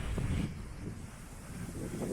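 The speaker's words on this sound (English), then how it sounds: "Oh goodness, it's windy. Did I hear wind? Oh, I hear it loud." Wind rumbles and buffets against the microphone in low gusts, a rough blustery roar with no voices.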